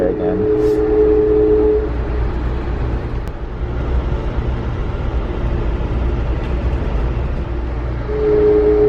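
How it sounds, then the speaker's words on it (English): An Amtrak train rolls steadily along the tracks through woods with a continuous low rumble and a faint tonal hum, heard from inside the carriage. "There's something kind of soothing about just rolling along through the woods in a train."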